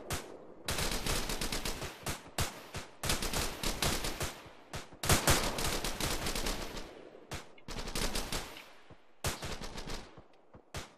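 Heavy automatic gunfire from the video game Arma 3 roars in long, loud bursts separated by short pauses, with single sharp shots echoing in the gaps and tailing off near the end.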